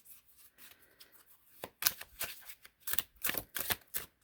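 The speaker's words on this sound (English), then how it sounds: "Yeah, they do well shuffling this way too." Smooth tarot cards are shuffled by hand, starting with soft faint riffling and building into several quick, crisp bursts of card flutter and slaps close by, with no talking.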